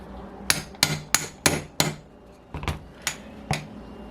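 Sharp metallic hammer taps driving a bearing into an OS FS-48 Surpass model engine through a socket extension, about ten close, crisp strikes in two uneven clusters with short pauses between.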